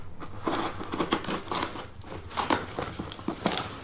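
Scissors or a blade snip and tear through a cardboard box holding a high-flow catted BMW N55 downpipe, a rapid series of close crisp cuts and crackles with no talk.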